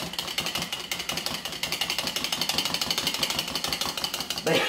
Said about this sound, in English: You just want to stir it real good with a whisk or fork and get the milk and the oil mixed in